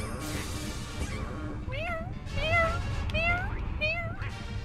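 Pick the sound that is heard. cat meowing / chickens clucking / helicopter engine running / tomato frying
cat meowing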